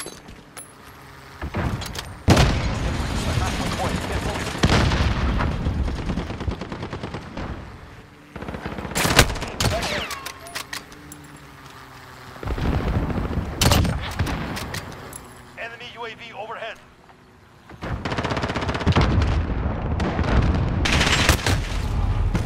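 Call of Duty Modern Warfare combat brings long bursts of machine-gun fire and heavy booms from a precision airstrike, coming in loud waves separated by quieter gaps.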